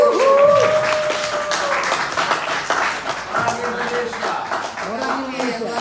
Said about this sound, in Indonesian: Mari kita beri tepuk tangan untuk